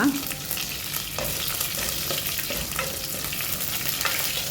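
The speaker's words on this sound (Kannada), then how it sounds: "ಸ್ವಲ್ಪ ಕರಿಬೇವು ಸೊಪ್ಪು ಹಾಕಿ ಒಂದು ನಿಮಿಷ ಫ್ರೈ ಮಾಡುವ" Mustard seeds, urad dal, crushed garlic and curry leaves fry in hot coconut oil, making a dense, close, continuous sizzle with occasional pops and light stirring scrapes.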